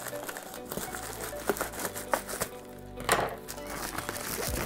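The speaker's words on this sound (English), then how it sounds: "all you have to do is get your pair of scissors, cut along the edge here." Scissors cutting along the edge of Scotch Flex & Seal packaging, a quiet series of crinkling plastic rustles and soft snips with occasional thunks, close up and faint, with a voice speaking at times.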